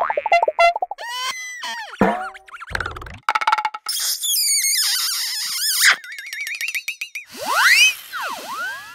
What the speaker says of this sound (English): Cartoon sounds.